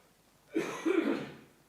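One rough, throaty cough sounds close by against a quiet background.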